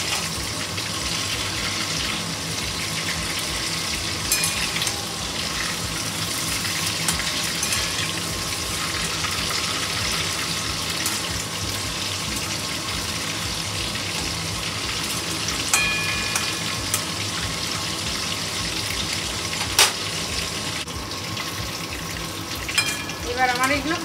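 Prawn pakoras sizzle steadily in hot oil for the whole stretch, a dense even crackle with faint clinks now and then.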